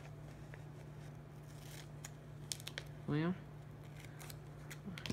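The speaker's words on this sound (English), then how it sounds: "I'll cut that off the corners." Scissors trim the corners of washi tape with a few crisp, close snips spread over several seconds, and a voice speaks briefly.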